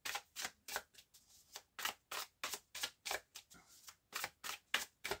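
Arthurian tarot cards are shuffled for a nine-card draw, a quick run of crisp riffling flicks repeating in steady bursts, close and quiet with no talk.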